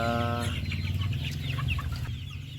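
Dense clucking from many native (ayam ulu) chickens about 47 days old, a busy flock close by with overlapping calls and a low steady hum underneath.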